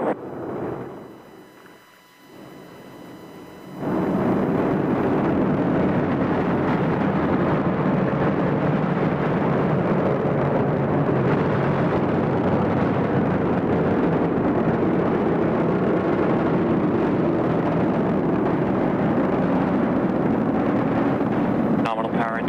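A SpaceX Falcon 9 first stage roars during the Crew-5 launch from Florida: after a few quieter seconds, a dense, continuous broadband rumble sets in and holds steady while a voice talks over it.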